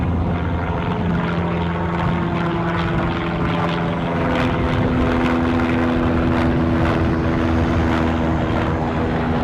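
A propeller aircraft flies a go-around at Aberdeen Airport, its engine drone loud and continuous throughout. The steady tonal hum shifts pitch slightly as the plane passes, with no talking.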